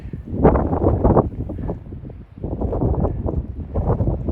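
Gusty wind buffets the microphone in rough, low rumbling bursts that rise and fall, close and fairly loud, with no voices, on a cold, snowy desert trail along the Pacific Crest Trail.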